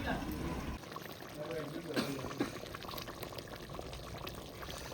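Water is poured into a pot of dhaba-style Punjabi mutton curry, a faint rushing pour and splash against a low background with what sounds like talking.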